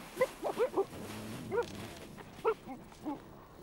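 Greenland sled dogs in the Arctic give a scattered series of short yelps, barks and whimpers, moderately close, rising and falling over several seconds with no talking.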